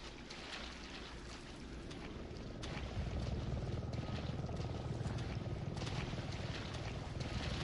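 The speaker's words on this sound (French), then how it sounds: "Un hélico." A helicopter's steady rotor roar fills the air with a windy, washing rumble, growing louder partway through and holding close and strong to the end, with no one speaking.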